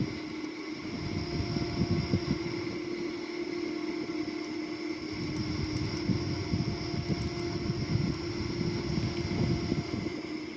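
Boeing 787 engines climbing out in a flight simulator game, a steady loud jet roar with a rumbling low end and a constant whine above it, continuous and alone.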